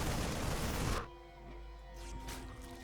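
A Widow Mine explosion in StarCraft 2 gives a loud noisy burst lasting about a second, then cuts to a quieter humming game background with faint crackles.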